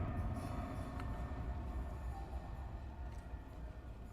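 Steady low rumble of a train rolling past in a video game, a dense continuous roar filling the whole stretch with no voices over it.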